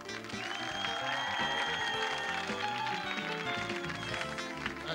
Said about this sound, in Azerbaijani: Bəs onda harda sizin alqışlarınız?